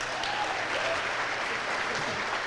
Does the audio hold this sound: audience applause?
yes